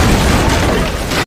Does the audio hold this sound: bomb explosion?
yes